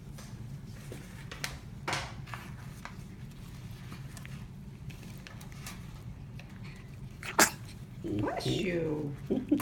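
A short, sharp sneeze bursts out once near the end, set against a steady low background hum with scattered faint voices and small noises.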